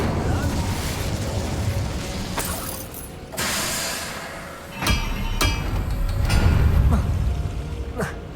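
Incendio fire spell cast in Hogwarts Legacy, heard as several sharp whooshing bursts spaced a second or two apart over a steady rumbling bed of combat noise, with a voice briefly audible.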